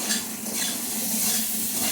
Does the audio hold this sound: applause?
no